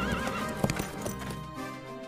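Horses neigh and hooves clip-clop in a medieval setting, a steady close clatter of hoofbeats with a sharp whinny standing out near the middle, over a busy background.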